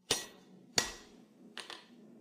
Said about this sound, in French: Ici, je fixe les soudures feuillies de forge avec mon marteau à main.